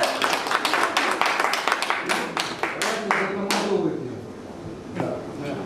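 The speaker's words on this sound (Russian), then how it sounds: "Дина, ваши аплодисменты." A small group in a restaurant claps for a few seconds after a performance, sharp close hand claps that thin out and stop, with people talking as the clapping fades.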